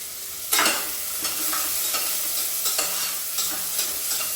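Chopped medium onions with green chillies frying in a little oil for pav bhaji, a steady soft sizzle broken by several sharp scraping stirs of the spoon in the pan, close and without talk.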